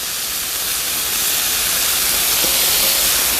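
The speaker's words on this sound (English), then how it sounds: "And then I take my pre-made noodles and I just place them right on the grill." Pre-made yakisoba noodles sizzling on a catering grill, a loud, steady, broadband hiss that holds unbroken and grows slightly fuller throughout, with no voices.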